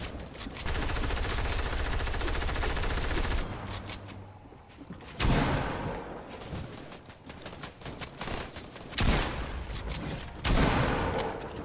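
Automatic gunfire in the Overwatch shooter game: long sustained bursts of rapid shots, loud and close, broken by short gaps and heavy impacts, with almost no talk.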